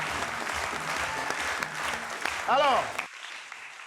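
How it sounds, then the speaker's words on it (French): An audience applauds technicians standing up at an evening event, steady dense clapping for about three seconds under a voice talking over it, ending abruptly into near silence. "Est-ce qu'on peut les applaudir?"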